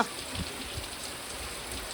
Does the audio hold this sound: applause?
no